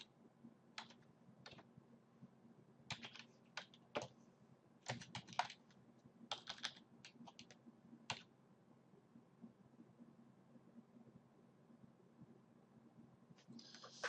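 Bursts of typing on a computer keyboard while an Aweber email account is being set up, quick irregular clusters of key clicks separated by pauses, close and fairly quiet over a low steady hum.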